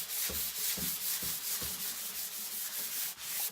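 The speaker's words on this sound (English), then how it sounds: "if this were wood that I was sanding, I'd be sanding with the grain" Rhythmic back-and-forth sanding strokes rasp against a hard surface, about four firm passes then lighter rubbing, close up.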